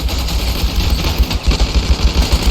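Battlefield gunfire in the video game Ravenfield during a World War I trench attack, a loud dense rattle of rapid shots with pulsing low thumps throughout, no voices.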